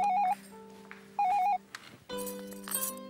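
A telephone rings indoors with warbling electronic ring bursts that repeat with short gaps. The tone shifts slightly toward the end and no voices are heard.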